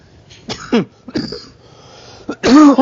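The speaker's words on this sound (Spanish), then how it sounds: "Disculpen, otra vez volvió la tos" A person coughs several times in separate rough bursts, close by, with short quiet gaps between and a harder fit at the end.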